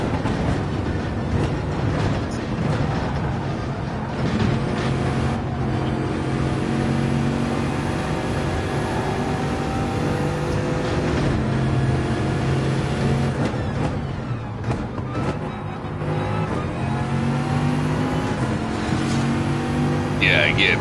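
An Audi race car engine in a racing video game drones loudly and continuously with shifting pitch as it speeds along, with a voice talking over it.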